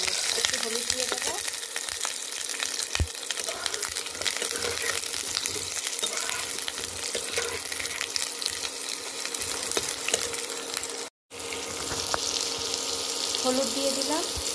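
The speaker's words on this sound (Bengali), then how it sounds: "এবার আলুটাও তুলে দিলাম। আলুটাকে লাল লাল করে ভাজবো।" Potatoes frying in a kadai with whole garam masala, a steady close sizzle with occasional scraping stirs and clinks, cut by one brief silent gap before the frying resumes.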